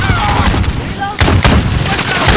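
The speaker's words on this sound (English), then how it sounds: "Throw grenade." A thrown grenade exploding in Call of Duty: Modern Warfare, a loud, close boom within a dense battle din, with game voices and sound effects running throughout.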